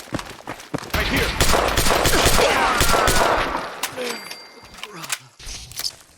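Rapid gunfire bursts in the video game Fallout 4 VR, dense loud volleys crackling for several seconds before thinning into scattered single shots.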